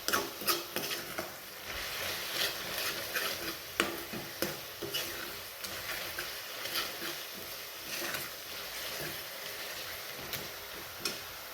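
A homemade black masala paste and red chili powder are stirred in frying oil, with a soft sizzle under irregular spoon taps and scrapes against the pot, fairly quiet and close.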